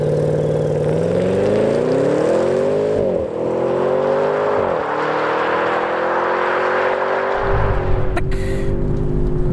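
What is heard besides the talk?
Audi S8 4.0 V8 TFSI quattro accelerating in dynamic mode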